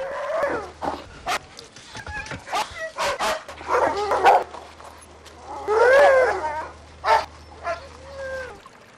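Huskies at an isolated Arctic weather station on Hope Island bark, yip and whimper in an agitated scuffle while fending off a polar bear, with a narrator talking over the noise.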